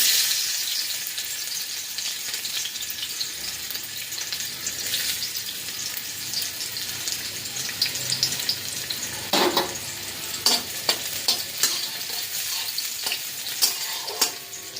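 Onions and chillies sizzle steadily in a hot wok for an egg dish, a continuous bright frying hiss with occasional sharper crackles and stirring scrapes in the later seconds, no voices.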